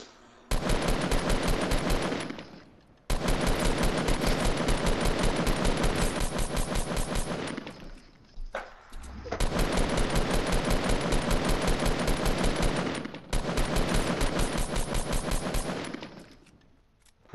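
Bursts of rapid machine-gun fire in a video game hammer out in long sustained volleys, with brief pauses between them. The fire is loud and dense, and no voices are heard.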